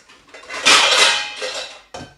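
A metal frying pan clatters and scrapes against other cookware, a bright rattling clank followed by a second short knock.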